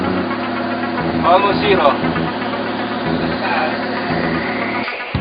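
A running engine on a lubricant friction test demo rig drones with steady low harmonic hum and a rhythmic pulsing beat, close and fairly loud, with someone speaking briefly over it.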